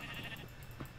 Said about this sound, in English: Oh, you got sheep.